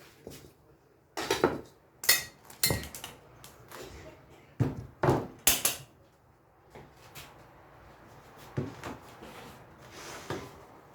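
Apple slices being arranged in a greased cake tin, giving several sharp metallic clinks and taps in irregular bursts against a quiet kitchen background.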